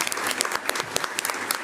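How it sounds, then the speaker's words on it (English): At a Board of Education meeting, the room gives a brief, lively round of applause to a new student board member. Dense claps fill the short burst. "Let's give her a round of applause."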